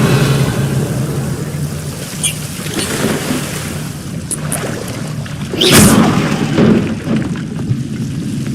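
Revelio spell cast in Hogwarts Legacy, a shimmering magical whoosh swelling over a steady background hum with brief sparkling bursts.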